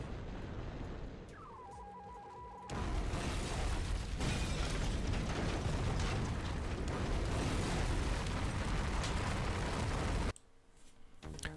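In the video game Syphon Filter, a facility collapses in an explosion that bursts in abruptly as a dense, roaring wall of noise with crackling debris, holds for several seconds, then cuts off sharply.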